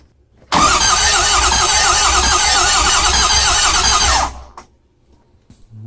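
The starter cranks a Ford 6.0 Powerstroke diesel fitted with a KC Stage 2 turbo after six months of sitting: a loud, continuous grinding churn for about four seconds, then it cuts off, leaving quiet with a few faint clicks.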